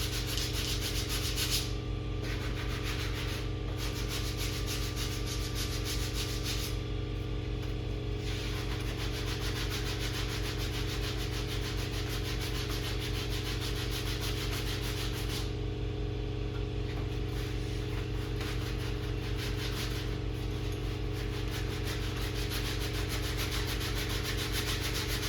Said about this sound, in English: Use a block to get into your corners because the sander will not get into the corners.